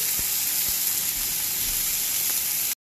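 A piece of beef sizzles on a hot, oiled handheld grill, a steady, close hiss of frying that holds evenly for about three seconds before cutting off, with no voices.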